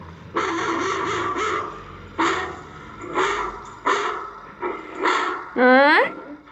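A person imitates a dog, barking five or six times in close, loud voiced bursts, ending with a rising whine-like yelp.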